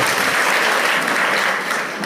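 An audience applauds teachers at a Teachers Day honouring ceremony in Indi, a dense, steady burst of many hands clapping that fills the hall, brief and without speech.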